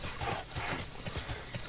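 A horse's hooves clip-clop in the online game TERA, a brisk, close, regular trot of repeated hoof beats lasting under two seconds, with no talk.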